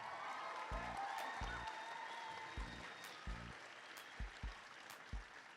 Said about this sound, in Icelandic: að klappa aftur fyrir þeim